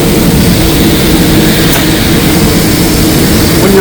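A Wagner 2K paint sprayer pump runs after a restart, giving a loud, steady, close mechanical roar that stays constant throughout with no talking.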